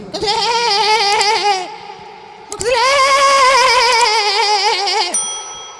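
A person imitates a goat, two long wavering bleats one after another, loud and close, followed by a brief ring.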